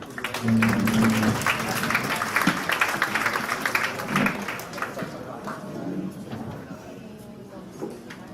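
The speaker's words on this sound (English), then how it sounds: "A round of applause, please." Audience applause at a regional training session for rondalla, a dense burst of clapping that swells early and then slowly thins and fades, with voices mixed in underneath.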